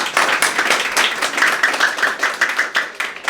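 An audience at an academy inauguration ceremony claps loudly, a dense, sustained burst of applause from many hands close by for the full stretch.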